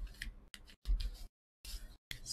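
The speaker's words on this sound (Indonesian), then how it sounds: "Tarotku ambil 5 buah kartu ya." Tarot cards are drawn one by one from a spread deck, giving several short, crisp papery slides and snaps separated by silent pauses. The sounds are close and quiet, with no talking.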